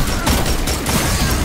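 Hand cannon fire from a Destiny 2 Crucible match, a dense burst of sharp gunshots crackling close and loud across the short span with no voices.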